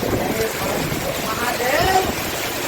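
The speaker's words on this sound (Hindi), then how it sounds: "देखिए कितनी तेज हवा है।" Strong wind blows steadily in a rural village during a storm, a loud continuous roaring rush across the mic with no pauses.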